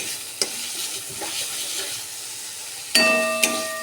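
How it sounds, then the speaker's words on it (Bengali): Spice paste for aloo dum sautés in oil, giving a steady low sizzle broken by a few sharp clinks of a utensil against the pan. "এই জায়গায় দেখছো কষাচ্ছি তেল ছেড়ে দিয়েছে মশলা থেকে"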